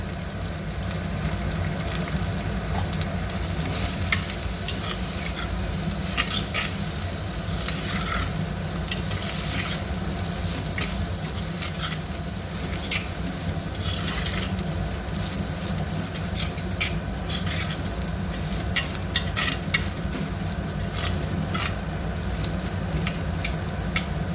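Bottle gourd pieces with ginger garlic paste and turmeric are stirred and frying in a pan for sorakaya pulusu. A steady close sizzle runs throughout, with scraping stir strokes and no talking.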